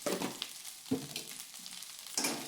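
Leftover rice for a breakfast dish is stirred as it fries in a pan, a quiet close sizzle broken by a few sharp scraping strokes of the spoon.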